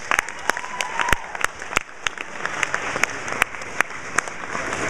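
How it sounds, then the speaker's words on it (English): Audience applause at the close of a senior speech fills the room, a dense steady patter of many hands with scattered sharp individual claps standing out near and clear throughout. "can we have one more round of applause?"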